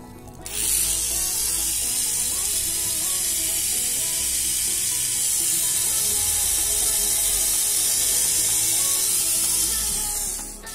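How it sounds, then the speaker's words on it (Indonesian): Battery-powered motor and gears of a Tamiya Mini 4WD Super-2 kit car running after switch-on, a steady high-pitched electric whine with gear buzz that holds for about ten seconds and then cuts off. "Kita akan pasangkan baterai Fujitsu Pink di sini dan kita akan coba engine on ya."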